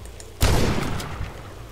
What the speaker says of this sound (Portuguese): dá um tiro nessa